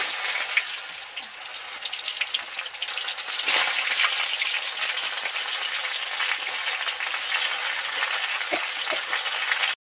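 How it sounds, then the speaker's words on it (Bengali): Steady, loud sizzling of pointed gourd frying in hot oil, a dense crackling hiss that continues throughout with occasional stirring clatter and no talking. "সবার আগে পটলটা সব তেলের মধ্যে উঠিয়ে দিচ্ছি।"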